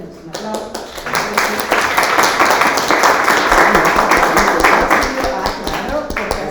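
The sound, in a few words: audience applause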